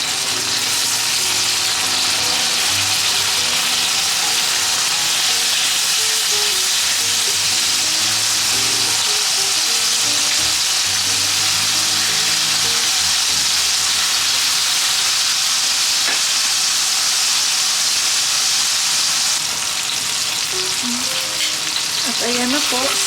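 Chicken breast frying in a pan makes a loud, continuous sizzle with crackles and a faint steamy hiss, close and unbroken throughout.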